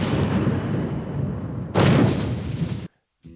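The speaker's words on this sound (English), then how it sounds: "Cannon fire!" Cannon fire in the war game Valkyria Chronicles 4 rumbles as a heavy, sustained booming barrage that swells sharply near the end, then cuts abruptly to near silence.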